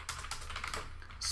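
Quick, close typing on a computer keyboard while writing a commit message: a brief flurry of light clicking keystrokes at an even pace, with no voice.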